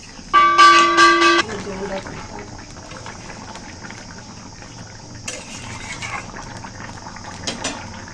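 A pot of curry with taro and small fish bubbles at a steady boil, a soft patter like rain. A brief loud chiming tone opens the clip before the quieter simmering continues alone.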